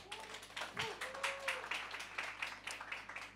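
Audience applause greets a startup team, Acoustic Technologies, walking on stage at a startup demo semifinal; steady moderate clapping from a crowd fills the whole stretch, with a brief low thump partway through.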